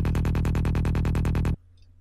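A loud, rapid psytrance synth bass line pulses in a steady driving rhythm, about a dozen even hits, then cuts off abruptly into near silence.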